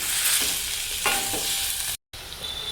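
Chicken coated in ginger garlic paste and masala fries over a slow flame for Kerala kandhari chicken gravy, making a close, steady sizzle with a few stirring scrapes and a brief silent break near the end.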